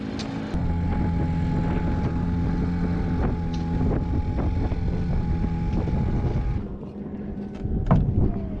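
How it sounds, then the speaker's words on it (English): A sailboat motors along under engine power on a sunset cruise, its steady low engine drone and hum running continuously with wind buffeting the microphone, easing slightly near the end. "Just a motor cruise tonight for the sunset."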